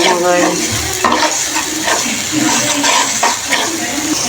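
Chili and spices frying for chicken curry, with loud continuous sizzling and repeated stirring scrapes against the pot, plus occasional utensil clinks throughout.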